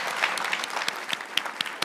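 An audience claps for a panel on Arctic security, a brief, fairly loud burst of many hands with a few sharper individual claps standing out as it continues.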